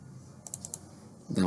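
Quick computer mouse clicks sound while a beam is measured in PlanSwift, four soft close taps in a short burst, followed by a voice starting to speak.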